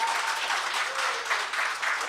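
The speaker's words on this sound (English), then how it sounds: "Give him a round of applause." Crowd at an anti-crime town hall meeting in Morvant claps warmly for a local alderman, a steady, fairly distant wash of applause with no talk over it.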